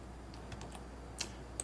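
A single key press on a computer keyboard while working in Blender 3.4 modeling software, heard as a few faint, brief clicks against a quiet background with no talking.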